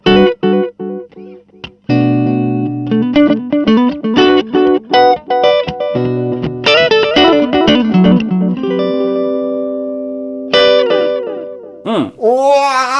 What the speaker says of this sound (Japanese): テープエコー的なことですよね